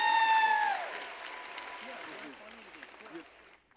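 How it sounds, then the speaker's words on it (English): A crowd's applause at an awards gala rings out after a brief tone, then gradually thins and fades to scattered clapping. "Can you give a big round of applause to Dr. VGP and his whole team for putting on"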